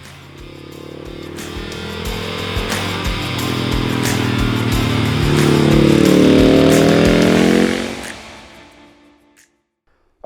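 A KTM Svartpilen 701 and a KTM 690 SMC R ride off together, their single-cylinder engines revving and climbing in pitch as they pull away, loud and close, then fading quickly into the distance.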